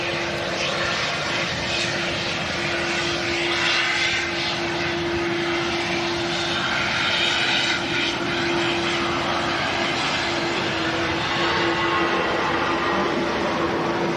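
A British Airways airliner departs Manchester Airport, a loud, steady jet roar with a sustained tonal whine that holds throughout at close range, without speech.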